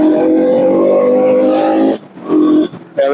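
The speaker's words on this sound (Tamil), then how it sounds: "நம்ம எக்ஸாஸ்ட் சவுண்ட் எப்படி இருக்கும் மட்டும் பாருங்க." Motorcycle exhaust on a mountain ride near Kotagiri, heard close and loud as a throaty rumble, then a short gap and a second rev burst, then another.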